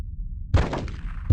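Assault rifle fire in the Die Hard: Vendetta video game: a short loud shot that lingers briefly, then a second report at the very end, alone with no talking.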